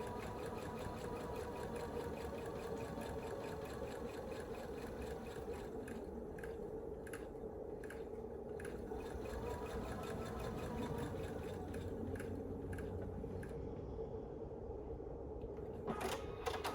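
Sewing machine stitching a scrap quilt block, a steady close mechanical whir with a fast needle rhythm running continuously, faint and without talk, ending in a few light clicks.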